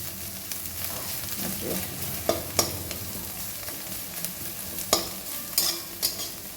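Sliced banana stem fries in a pan with a steady, close sizzle, while a spatula scrapes and taps the pan at irregular intervals.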